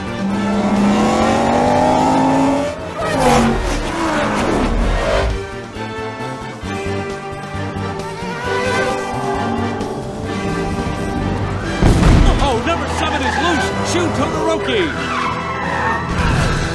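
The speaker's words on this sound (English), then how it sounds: "The racers are now making their way around the hairpin and headed downhill toward the casino bridge." Race cars in the BeamNG.Drive driving game round a hairpin and speed downhill on an Italian course, with loud engine roar, repeated tire squeals and skids, and a voice talking over the action.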